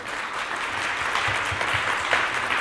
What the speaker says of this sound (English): please welcome me in clapping and celebrating this great panel here